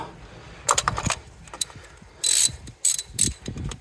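A ratchet works on bolts one by one during a full service on a Mini, bursts of quick metallic clicking and turning separated by short pauses, close and fairly quiet, with light handling noise between.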